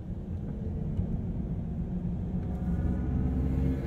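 Mercedes-Benz EQE electric sedan emitting its synthetic spaceship-like drive sound, a steady low humming rumble with a faint rising tone, heard from inside the cabin with no talk.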